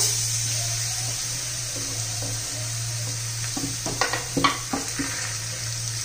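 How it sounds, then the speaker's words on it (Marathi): Garlic sizzles steadily in a hot pan while it sautés toward golden for papaya chutney, with a loud continuous hiss and a few clattering stirs near the end. "लसूण तांबूस होईपर्यंत आपण परतून घेणार आहे, म्हणजे त्याचा चांगला अर्क उतरतो लसणाचा"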